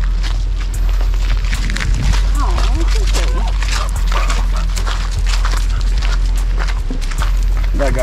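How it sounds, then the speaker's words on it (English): A Cane Corso whimpers and gives a few short barks at another dog amid steady outdoor noise, with people talking nearby. "She's all mad at that dog over there."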